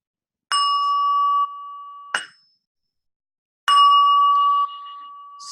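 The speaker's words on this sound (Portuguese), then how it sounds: "E vai com sininho também." A small bell is struck three times at a slow, deliberate pace, each clear metallic ring sustaining and fading before the next, alone in silence.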